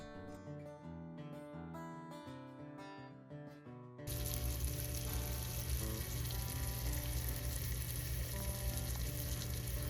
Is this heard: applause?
no